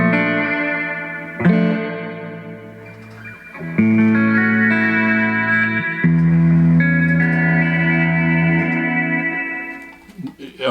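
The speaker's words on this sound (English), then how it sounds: "It's the off and on switch for the reverb and a knob to turn it up. If I turn it up all the way," An electric guitar plays sustained chords and notes through an Analog Alien Rumble Seat pedal with its reverb turned all the way up, giving long washy tails and echoing decays between strums.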